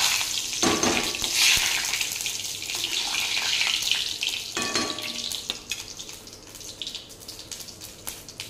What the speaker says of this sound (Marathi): जिरे छान तडतडले आहे